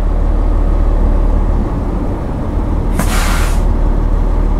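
A fire apparatus idling loudly in its bay with a steady engine rumble, cut at one point by a sharp hissing burst of air as the air brake engages, close and with no talking.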